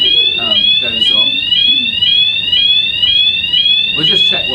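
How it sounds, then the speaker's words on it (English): A fire alarm sounds continuously and loudly in a conference room during a Conservative conference fringe event, a repeating rising whoop, with people talking over it. "it's so terrifying, the alarm goes off."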